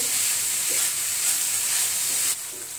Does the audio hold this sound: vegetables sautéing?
yes